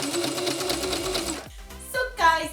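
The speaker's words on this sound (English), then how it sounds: "Now just sew it." A sewing machine stitches through two layers of fabric. It runs in a rapid, steady, close buzz for about one and a half seconds, then stops. Talk follows over a few short mechanical clicks and squeaks.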